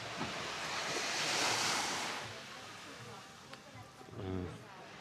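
Steady wash of surf and wind rumble fills a beach in Phu Quoc, Vietnam, with waves rolling in continuously nearby; a brief voice appears near the end.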